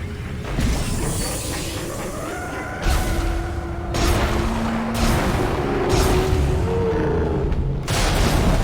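An exploding enemy in Dead Space 2 blows up with a deep boom, followed by heavy rumbling impacts and mechanical clanks, loud and close amid tense game ambience.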